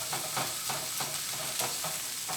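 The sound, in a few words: stirring vegetables frying in oil in a stir fry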